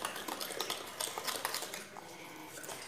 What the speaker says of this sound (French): je mélange avec une cuillère